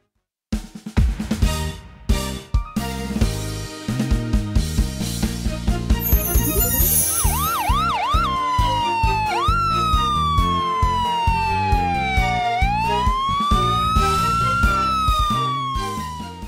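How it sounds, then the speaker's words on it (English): Emergency vehicle sirens from a children's cartoon rescue team, police car, fire truck and ambulance, wail loud and close, rising and falling over a busy musical backing for most of the stretch. "Police car? Fire truck? Ambulance?"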